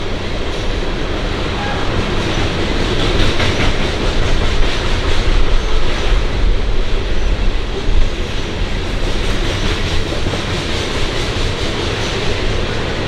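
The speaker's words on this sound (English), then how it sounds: "Do y'all like watching the train go by?" A train rumbles past close by for the whole stretch, loud and steady with rhythmic clattering of wheels on rails, swelling slightly in the middle.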